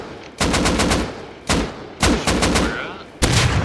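Automatic rifle fire in the online survival game Rust, several loud, close bursts of rapid shots separated by short pauses.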